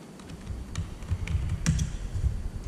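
A password is typed on a computer keyboard as a short run of close, light key clicks, sparse and uneven, over quiet room noise.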